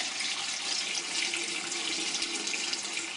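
Water, about 1.5 gallons, runs steadily into a cooking pot for chai, giving a continuous hissing splash at moderate volume with no speech over it.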